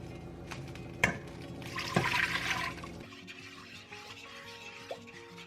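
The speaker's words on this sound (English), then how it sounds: "add this water, milk, and ghee mixture to my pot" A water, milk and ghee mixture pours into a cooking pot, giving a steady liquid rush that swells for a couple of seconds, with a few clinks of utensils, then settles into quiet kitchen background.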